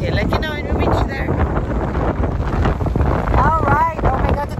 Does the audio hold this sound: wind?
yes